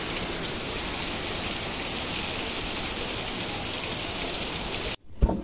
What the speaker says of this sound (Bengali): এরই মাঝে অনেক বৃষ্টি চলে আসছে